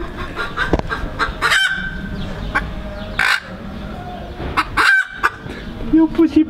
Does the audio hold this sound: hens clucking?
yes